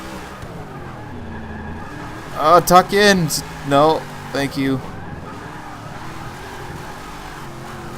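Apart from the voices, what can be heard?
Ram Runner car drifting and skidding in video game Forza 6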